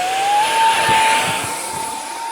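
Arrows T-33 50mm RC jet at full throttle: a loud, steady high-pitched turbine-like whine that climbs briefly and then holds, with airy rushing noise throughout and no voices.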